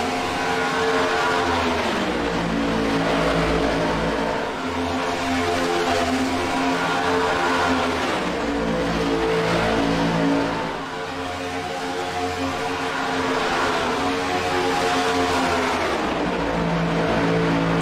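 A 23-car field of race cars laps a tight track, with loud engines droning and revving in repeating waves as the pack sweeps past again and again.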